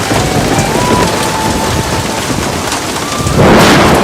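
Heavy rain pours down with rumbling thunder in a Tamil film comedy scene, a dense, loud, steady downpour that swells into a stronger rush near the end.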